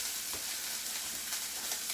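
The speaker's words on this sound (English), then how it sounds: "I'm going to spread the oil around just a bit, and then I'm going to put that pork chop in" A pork chop frying in hot oil in a pan gives a steady, bright hiss and crackle of sizzling, close and constant throughout with no voices.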